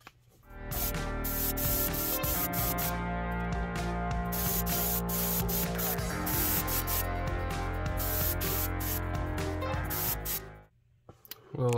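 An airbrush sprays Wicked Gold paint onto a fishing lure, painted in a yellow perch pattern, with a close, steady hiss that runs continuously for about ten seconds before cutting off, with no talking.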